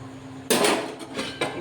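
A lid clatters down onto a cooking pot of simmering tomatoes and chillies for momo chutney, a sharp metallic clank followed by a ringing rattle and a second lighter knock as it settles, close and loud.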